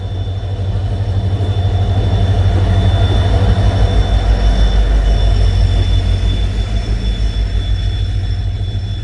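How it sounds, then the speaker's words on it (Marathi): Tutari Express passenger train on the Konkan Railway rolling into a station, a loud steady rumble of wheels and carriages with rhythmic clatter over the rail joints, close by and sustained throughout. "गाईज आता एक ट्रेन येते तुतारी एक्सप्रेस."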